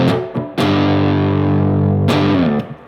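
Distorted electric guitar power chords: a short stab, then a long sustained chord held for about a second and a half before a slide to a new chord that rings out, loud and close with no talk.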